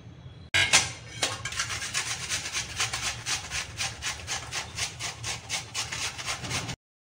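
A peeled potato is rubbed against a grater in quick, even back-and-forth strokes, a rhythmic close scraping that runs for several seconds and then stops abruptly.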